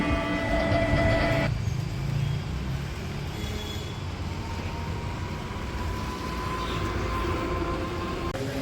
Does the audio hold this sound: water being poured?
no